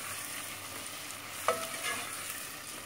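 Pastırma sizzling in a pan with tomato paste during bean stew cooking, a constant hissing fry with one sharp utensil clink midway, no talking.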